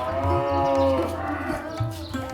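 Cows moo loudly and repeatedly at the arrival of a fodder vehicle, with several long, deep calls overlapping close by and no talking.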